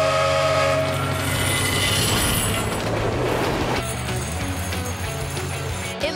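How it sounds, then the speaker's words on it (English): A cartoon train rumbles and rattles along the tracks as it approaches, with a whistle blast at the start and a steady, loud, dense rush of wheel and engine noise throughout, no talk. "Here comes the train."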